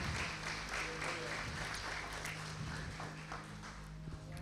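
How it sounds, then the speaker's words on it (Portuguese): Congregation applauding a man invited onto the stage at a Sunday church service; steady, dense clapping fills the whole stretch, with faint voices mixed underneath. "Aplauda o Joel."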